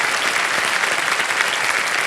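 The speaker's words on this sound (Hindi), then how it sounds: "तालियां बज जाए इनके लिए।" Steady studio audience applause on a TV quiz show as a contestant quits with prize money, continuous dense clapping from a large crowd, loud and uninterrupted.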